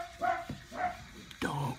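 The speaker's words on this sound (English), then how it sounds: "Dogs all the time, they bark." Dogs barking in a few short, sharp bursts spaced through the moment, fairly close and moderately loud, with some background voice or noise between them.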